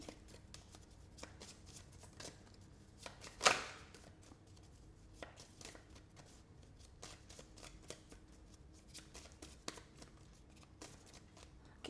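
Soft, rapid riffling and tapping of tarot cards being shuffled close by, a steady patter with one louder riffle early on, quiet throughout.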